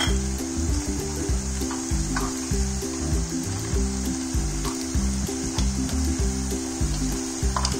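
Chopped onions and finely cut green chili sizzle loudly in a pan for papad sabzi while being stirred, a continuous close fry with rhythmic scraping strokes repeating through the clip, no voice.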